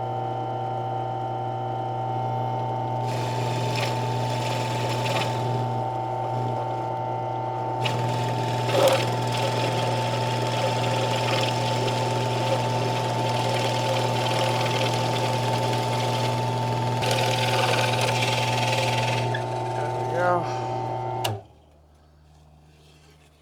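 An electric drill with a 1.25-inch bit, used while building a wine bottle bird feeder, runs with a steady, loud motor hum that holds for about twenty seconds and then cuts off abruptly.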